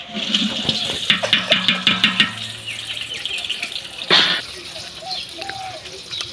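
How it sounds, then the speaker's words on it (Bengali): Bay leaves being rinsed under running water for a picnic cooking pot, a steady splashing stream with rhythmic rubbing bursts early on, then a brief louder gush, with a low voice murmuring underneath. "তেজপাতাগুলো ধুয়ে দিয়ে দিচ্ছি"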